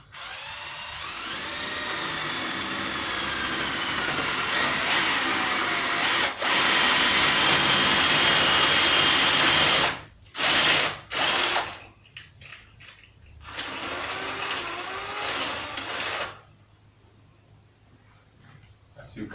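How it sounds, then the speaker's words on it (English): A power drill bores through a wall with a long loud whine, then stops and restarts in short bursts before quieter stretches. A voice talks faintly in places. "we just drill through."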